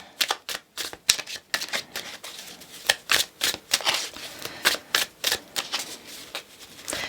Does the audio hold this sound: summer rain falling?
no